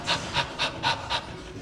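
A voice imitates heavy panting breath during training: five rhythmic, breathy huffs in quick succession, close and fairly loud, with no other sound over them.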